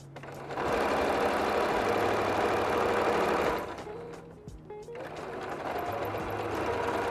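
Sewing machine stitching a straight seam on a batik tote bag, a fast, steady mechanical whir that runs loud for about three seconds, eases off briefly, then starts up again and runs on.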